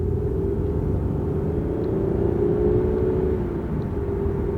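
A Toyota or Lexus car drives uphill with a steady, loud engine and road rumble and a faint whirring tone, heard from inside the vehicle with no talking.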